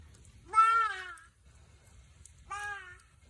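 Two clear bleats from a nearby sheep, one long and wavering, then a shorter one after a pause, over a low rumbling background.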